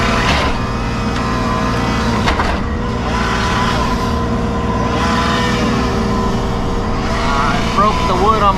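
A Kubota KX033 excavator fitted with a Steelwrist tiltrotator runs loudly close by while cutting up a trailer, its engine droning continuously with scraping, crunching bursts.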